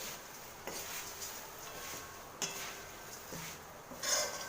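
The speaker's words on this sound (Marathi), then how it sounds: "मी पातळ पोहे आहेत हे टाकून घेते आहे त्याला छान फिरवून घेते" Thin poha stirred in hot oil in a pan, a metal spoon scraping and clinking against the pan in irregular strokes, with a few sharper knocks, close and moderately quiet.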